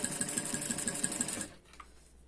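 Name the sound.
sewing machine stitching fabric for a mask holder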